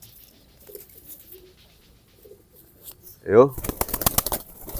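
Racing pigeons give soft, intermittent coos in a quiet setting, then a sudden burst of wing flapping and patter as a bird lands, followed by brisk rhythmic rustling; a man calls out once briefly.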